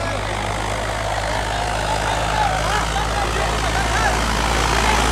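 A new John Deere 5210 tractor running a round on a track, its diesel engine giving a loud, steady low drone close to the listener throughout, with a voice talking over the noise.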